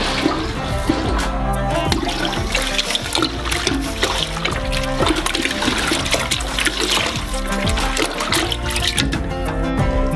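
A large batch of orange juice with sugar and flavoring being thoroughly mixed, giving continuous loud sloshing and splashing of liquid that churns steadily without pause.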